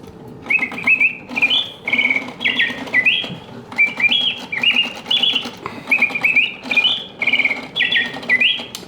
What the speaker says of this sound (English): The birds alternate singing.